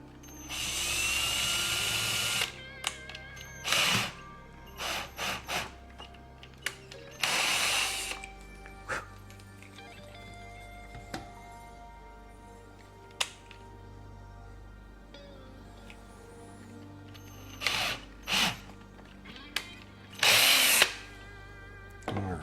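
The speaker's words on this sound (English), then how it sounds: "this bit I selected because it was big enough to drill a hole through this" A power drill whirs in several short, loud bursts separated by quiet pauses, with brief higher-pitched spurts between the longer runs, drilling a hole while rehanging a shower curtain rod.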